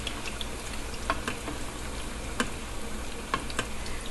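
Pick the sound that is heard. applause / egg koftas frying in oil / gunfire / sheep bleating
egg koftas frying in oil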